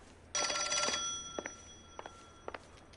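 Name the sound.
telephone ringing in video game L.A. Noire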